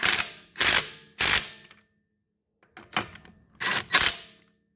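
An impact gun or ratchet snugs lug nuts on the wheel of an MK7 Golf R: three loud, separate bursts of rapid clicking, a short pause, then several more ratcheting bursts, close and alone.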